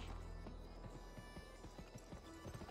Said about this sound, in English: Where's my fucking horse at?